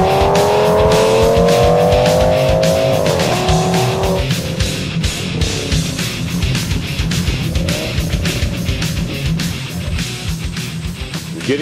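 Race cars, including a 1966 Pontiac GTO and a Chevy Chevelle, roar past close by in a feature race, engines revving loudly with a rising whine, then a steady rumbling drone of several cars on track.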